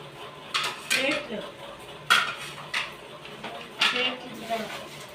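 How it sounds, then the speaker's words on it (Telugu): Kadai pans, a small kadai and metal plates are handled in a kitchen, giving several sharp clanks and clinks spaced irregularly, fairly close and moderately loud, with no talk over them. "చపాతీలు చేసేది ఒక బాండి, చిన్న బాండి, ప్లేట్లు"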